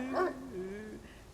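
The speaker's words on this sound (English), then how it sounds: "A dog is whining like it's afraid of something." A dog in the video game Spirit Hunter: NG whines fearfully in short, high, wavering whimpers that rise and fall over about a second. The sound is fairly quiet and close over a faint background hum.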